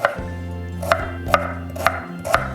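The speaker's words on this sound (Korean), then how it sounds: "고추는 그냥 믹서기에 갈 거라 그냥 큼직큼직하게 썰어주시면 돼요" A knife chops chili peppers into large chunks on a board in four or five sharp, evenly spaced strokes, close up.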